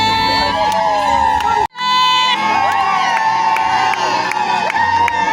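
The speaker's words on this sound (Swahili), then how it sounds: "jamani, vigelegele." Women ululate in celebration amid a cheering crowd, a loud, sustained trilling cry that briefly cuts off and then resumes over lively shouting and clapping.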